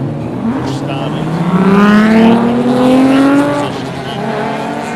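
Race cars on a formation lap, including a Ford Mondeo, at a classic motor racing event; a loud engine rises in pitch as it passes close by, then fades, with a commentator's voice over it.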